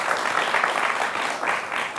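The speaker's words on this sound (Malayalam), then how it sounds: "ഒന്ന് കൈയടിച്ചു കൊടുക്ക്." Audience at a televised Malayalam tribute event bursts into dense, steady applause, many hands clapping together at a fairly loud, even level throughout, with no voices over it.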